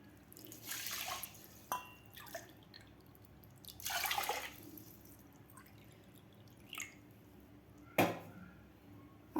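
Water is poured into rice in a pot while making curd rice: faint splashes and trickles come in several short bursts with quiet pauses between them.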